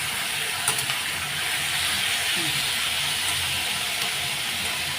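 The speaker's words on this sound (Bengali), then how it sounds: "আমি আলু পেঁয়াজ কাঁচা লঙ্কা সব একসাথেই দিয়ে দিয়েছি ভেজে নেবো একটু লাল লাল করে নেবো" Potatoes, onions and green chillies fry together in oil in a home kitchen pan, a steady, loud broadband sizzle that holds evenly throughout with no voices over it.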